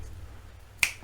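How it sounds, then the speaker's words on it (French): One crisp finger snap rings out close and sharp near the end of a quiet moment during a card trick, alone with no talk. "Petit claquement de doigts."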